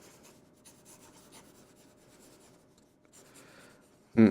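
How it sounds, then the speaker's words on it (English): A Nettuno NE 2.0 fountain pen moves fast across paper, making faint scratchy strokes in quick bursts with a short pause, then a louder bump at the very end. "I'll try fast writing."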